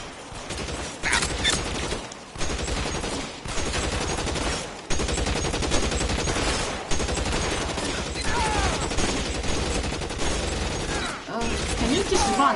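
Gunfire from the video game LA Noire, dense bursts of shots and rapid volleys recurring throughout with brief pauses, loud and close, mixed with game voices speaking.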